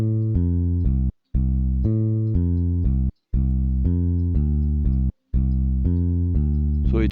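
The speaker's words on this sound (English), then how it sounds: "It's a very easy and simple bass line." A plain synth bass line for an Afrobeat track plays alone, steady repeated notes grouped in short phrases separated by brief silences, clear and close.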